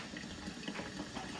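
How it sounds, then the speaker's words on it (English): Cool water rinsed through the lines of a surge bucket milker, a steady close rushing and gurgling flow without pauses, moderately quiet and unaccompanied by speech. "I just rinse that through the lines"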